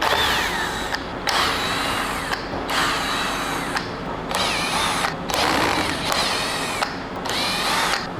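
Screws come out of a resin mold under a power screwdriver, which whirs in steady bursts of about a second separated by short pauses, close and continuous throughout.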